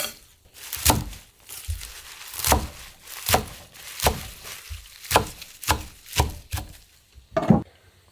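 A knife chopping vegetables into short pieces on a cutting board, a series of about a dozen close, solid thunks at an uneven, unhurried rhythm with brief pauses between cuts.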